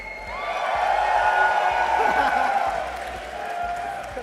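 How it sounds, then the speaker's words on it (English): Esports arena crowd at a Dota 2 playoff match cheering and whooping in a sustained, loud roar that swells and slowly fades, with a presenter's voice faintly underneath. "Give me a cheer if you think so."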